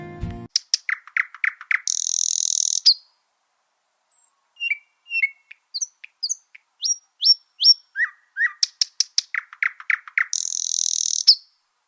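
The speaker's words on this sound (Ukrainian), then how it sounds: "Тож і ви послухайте, як співає Соловей." A nightingale sings in clear, fairly close phrases: rapid repeated chirps, buzzy trills and sharp whistled notes with short pauses between them, heard alone with no talk.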